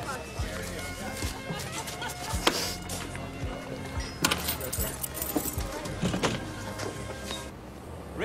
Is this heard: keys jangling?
yes